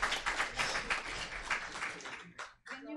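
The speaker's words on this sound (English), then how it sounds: "please welcome Ms. Hazumi and give her a big applause" An audience at a visiting-professor lecture in Yogyakarta breaks into a burst of clapping to welcome a guest speaker, a dense wash of applause that fades out after a couple of seconds.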